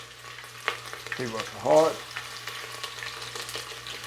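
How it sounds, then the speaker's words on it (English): A chicken heart fries in a pan, giving a steady sizzle throughout, with a brief voice speaking over it partway through. "Hear that sizzle."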